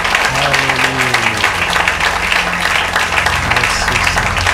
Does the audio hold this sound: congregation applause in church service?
yes